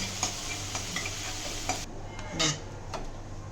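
Chili sautéing in ghee in a pan for a fasting-day potato dish, with steady soft sizzling and a few light clicks of a spoon or utensil against the pan, with no voices.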